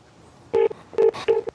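Telephone keypad dialing tones while placing a call, three short loud beeps at an uneven pace with brief clicks between them, heard alone.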